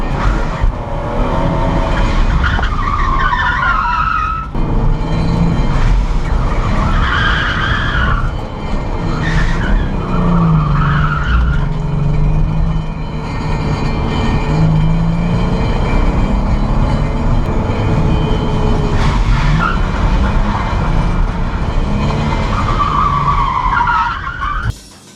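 A BMW drifts with tires skidding and squealing continuously, loud and close, layered over a steady engine roar for the whole stretch, with the screech rising and falling in waves.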